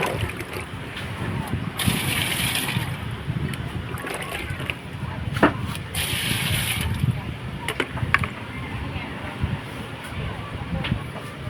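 Water leaking from a Sharp washing machine splashes and patters at close range, with two louder bursts of spattering over a low background rumble.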